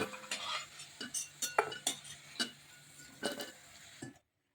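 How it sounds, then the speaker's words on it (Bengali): Fried potatoes lifted out of a pan with a metal utensil in a home kitchen: a steady series of light scraping clinks and taps against the pan, close and fairly quiet, with no talk. "এখন আলুগুলি আমি নামিয়ে দিচ্ছি।"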